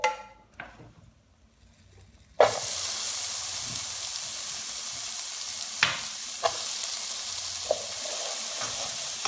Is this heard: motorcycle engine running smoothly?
no